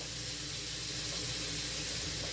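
Cold tap water runs in a steady hissing stream over cooked elbow macaroni in a kitchen sink, loud and close, continuous without pause.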